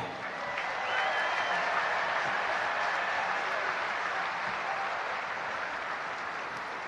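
Audience applause at a United States Military Academy graduation ceremony for a band, a broad, steady wash of clapping from a large crowd, moderately distant, swelling slightly then holding evenly throughout.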